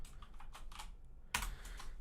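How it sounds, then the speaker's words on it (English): A person types on a computer keyboard during a programming session, producing a quiet, close run of uneven key clicks followed by a sharper keystroke burst. "It's kind of hard to type with a microphone in front of me blocking my view of the keyboard."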